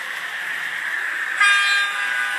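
A recorded train horn sounds over a steady rumbling hiss, a higher blaring tone cutting in partway through, continuing to the end.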